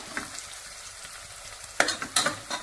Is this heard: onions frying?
yes